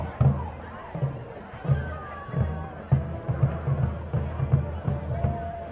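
A large crowd at a high school football game murmurs and chatters at a distance, with rising swells of cheering, while voices talk close by over it.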